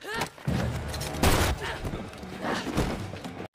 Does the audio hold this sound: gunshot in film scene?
yes